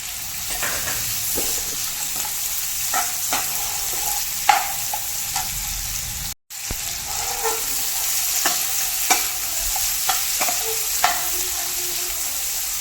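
Vegetables including carrot and capsicum stir-fried on a gas flame for chicken noodles, with a steady hiss of frying and repeated sharp scrapes and clanks of a spatula against the pan, no speech.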